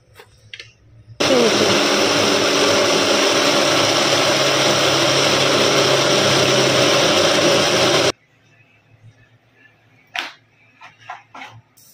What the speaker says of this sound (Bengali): তো মিক্সিতে বসিয়ে দিলাম, এবার দেখা যাক আমার মিক্সি কি বলে